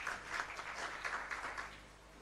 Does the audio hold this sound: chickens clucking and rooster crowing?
no